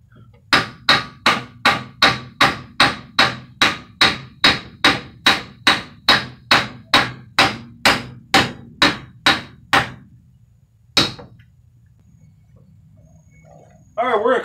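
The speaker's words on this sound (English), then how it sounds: "Now I'm gonna hit this with a hammer" A hammer strikes the copper of a 91-lb transformer about twenty times in a fast, steady rhythm, loud and close, then one more blow after a pause.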